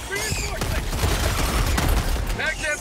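Shotgun blasts in the Helldivers 2 video game, heavy booming shots within a dense, continuous wash of battle noise and mechanical clatter, loud and close throughout.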